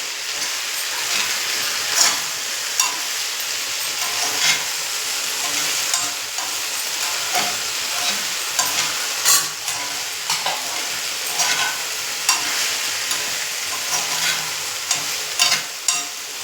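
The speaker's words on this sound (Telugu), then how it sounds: "ఇలా కలిపేస్తే ఉన్న జిగురంతా పోద్ది" Food stirred in a cooking pot with the lid off, cooking down to remove its sliminess: a steady sizzling hiss runs throughout, with repeated scraping strokes and light clinks of the utensil against the pot.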